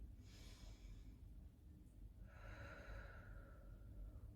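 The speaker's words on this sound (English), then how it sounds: "Now we're going to take 3 deep breaths in and out." Two deep breaths, a soft inhale followed later by a longer, louder exhale, close and quiet with no talk.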